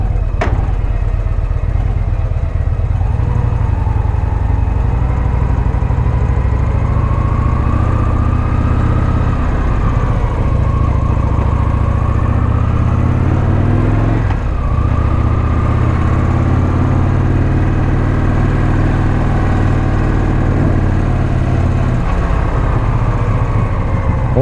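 A Victory motorcycle engine runs loud and close, a steady heavy rumble with rising and falling revs throughout.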